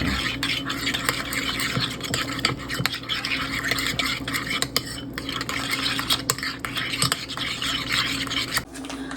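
Spoon stirring salt and other dry seasonings together in a bowl, a steady close scraping and clinking that continues without pause.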